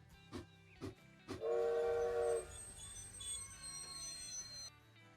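A train pulls into a station in the railroad management game Railroad Corporation, with a few sharp clanks followed by a loud, brief wheel-brake squeal and a lingering hum as it settles, no voices over it.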